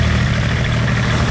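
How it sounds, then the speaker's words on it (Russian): Loud tractor engine rumbling close by, a steady low, heavy drone with no pauses, nothing else audible over it. "ебаный трактор, хули так громко"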